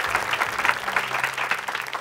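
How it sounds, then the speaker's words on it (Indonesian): A studio audience at the Indonesian comedy show Lapor Pak claps in a lively, even burst of applause lasting a couple of seconds, near and fairly loud. "Tepuk tangan dulu dong buat kok Ernest."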